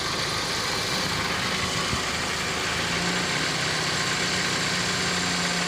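A Toyota Vios engine idles with its battery disconnected, a steady, unbroken close-up hum and rumble that holds evenly throughout.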